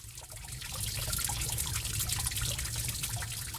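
Water drips and trickles steadily inside Gua Putri, a limestone cave hung with stalactites and stalagmites, making a continuous wet splashing wash with no talk.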